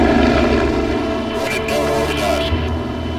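Steady, loud drone of a DC-3 propeller airplane's piston engines heard from inside, a continuous throbbing hum with no break.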